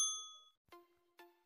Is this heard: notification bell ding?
yes